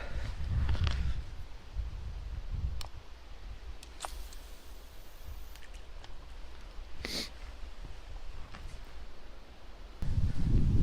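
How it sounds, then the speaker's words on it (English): Gusty wind buffets the microphone outdoors on a wilderness fishing trip, a steady low rumble throughout that swells louder near the end, with a few faint brief clicks and no talking. "But man, it's getting windy."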